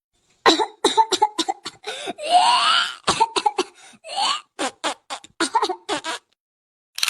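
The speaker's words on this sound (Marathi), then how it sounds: "मावशी जरा आरामाने खोकला" A woman in a cartoon doctor's-clinic comedy coughs repeatedly, harsh close-up bursts in quick clusters with a couple of longer, strained rasping coughs in between.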